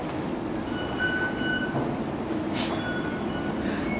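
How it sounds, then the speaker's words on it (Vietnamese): Hong Kong subway train in a station, a loud continuous rumble and rolling roar with faint high metallic whines, heard close and steady. "Thì ở chỗ này sẽ vô tàu điện ngầm nè."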